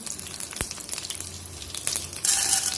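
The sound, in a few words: curry leaves sizzling in hot oil with mustard seeds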